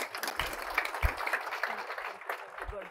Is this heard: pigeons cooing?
no